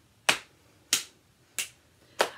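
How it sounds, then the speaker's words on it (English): Body-percussion rhythm from a music activity for adults, four crisp snapping hits evenly spaced about two-thirds of a second apart, close and clear with quiet between them. "We're gonna pat, clap, snap"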